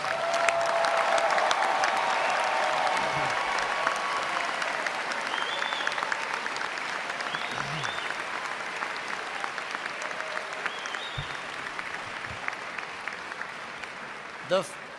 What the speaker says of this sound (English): Join me in another round of applause for those who have received their degrees.